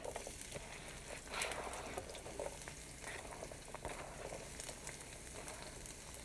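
Onion and minced garlic sizzle in warm oil in a home kitchen, a steady close crackling hiss with scattered pops that holds at an even level throughout.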